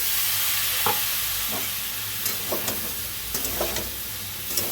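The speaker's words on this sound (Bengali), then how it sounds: "দিয়ে এটাকে ভালো করে কষিয়ে নেব, যতক্ষণ না এর মধ্যে দিয়ে কাঁচা গন্ধটা যাচ্ছে" A paneer, potato and soybean curry with ginger paste fries in a pan, giving a steady close hiss of sizzling oil broken by a few light scrapes and taps of a spatula.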